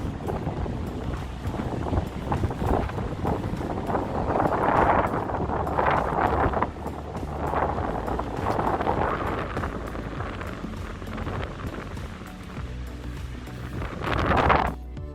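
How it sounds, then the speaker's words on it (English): Strong wind buffets a Samsung Galaxy S10 Plus or S9 Plus phone microphone in a continuous low roar with gusty surges, mixed with outdoor water ambience and no talking. "It's very windy."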